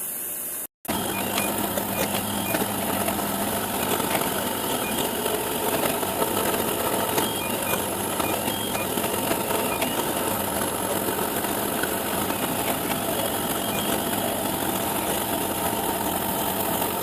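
A CNC machine cuts with a 3mm slot drill, producing a continuous, even whine and hum of spindle and cutting with no pauses, steady in level from start to finish.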